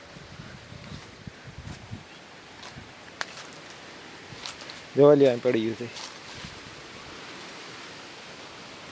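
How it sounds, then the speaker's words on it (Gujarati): Strong wind gusts through a mango orchard, a steady broad rustling roar of leaves for the whole stretch, with someone speaking briefly over it near the middle. "પવન જ મિત્રો બહુ પવન છે, અતિશય ફૂલ પવન છે એકદમ"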